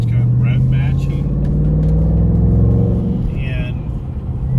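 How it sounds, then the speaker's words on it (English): A 2020 Ford Mustang Bullitt downshifts with rev matching, its deep engine rumble holding steady then blipping and easing off inside the cabin, with talking over it. "So now downshifting."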